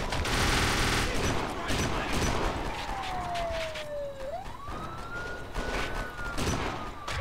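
Gunfire in the video game Kane & Lynch 2, bursts of automatic shots alongside a wailing siren tone, with voices talking over the action.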